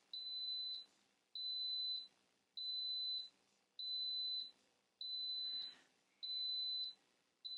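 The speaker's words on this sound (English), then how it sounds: "So it beeps like 10 times to tell you that it stopped cooking" A pressure cooker's high electronic beep repeats steadily when cooking stops, about seven long tones evenly spaced with short pauses, clear and close over faint background hiss.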